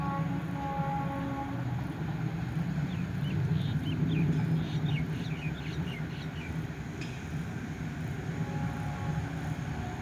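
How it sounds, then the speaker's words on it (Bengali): A long freight train rolls past near a veterinary college in Bandel, giving a continuous heavy rumble and wheel clatter that swells slightly midway, with faint bird chirps above it. "দেখুন মালগাড়ি যাচ্ছে কত বড় বড়"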